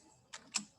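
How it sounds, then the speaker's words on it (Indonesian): Two quick key presses on a computer keyboard during AutoCAD 3D technical drawing, crisp separate clicks a fraction of a second apart, close and fairly quiet. "Maka kita ketik aja di keyboard shift"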